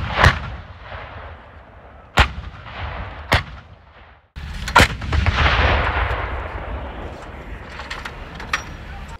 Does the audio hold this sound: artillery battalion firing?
yes